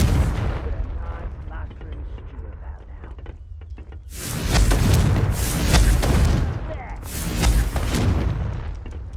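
Several heavy explosive blasts from the Confringo fire spell in Hogwarts Legacy on PS5, cast in quick succession: a quiet rumbling lead-in, then three loud booming bursts with crackling tails, each swelling and fading.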